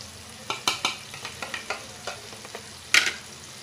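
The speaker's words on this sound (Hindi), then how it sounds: "अच्छी तरह से मसाला को बैगन में मिला लेंगे" A spatula mixes masala into eggplant in a hot pan, with no onion or garlic: irregular clicks and scrapes over a soft steady sizzle, one sharper knock near the end, close and alone.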